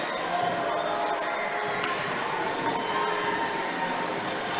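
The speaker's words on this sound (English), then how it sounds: "You can probably hear the home crowd showing their appreciation as the coaching staff make their way across the ice" The home crowd in an ice hockey arena applauds at a Manchester Storm versus Nottingham Panthers match, a dense, steady roar of clapping and noise filling the whole stretch.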